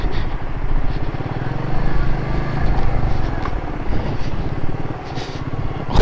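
A motorcycle engine runs steadily close up in Southend-on-Sea, a throaty rumble mixed with wind noise as the bike rides along.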